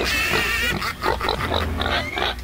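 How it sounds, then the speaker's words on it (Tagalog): A pig oinking sound effect delivers a quick run of close, nasal grunts and snorts over a couple of seconds with no talking. "Ba't baboy to?"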